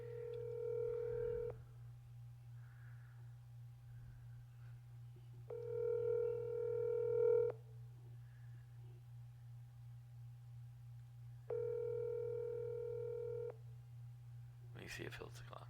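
A telephone call rings out with three separate, evenly spaced ringback tones, faint and thin over a constant low hum.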